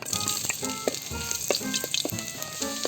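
Ginger sautéing in a hot pan sizzles steadily, and a run of spatula scrapes and taps on the metal comes through at close range without any speech.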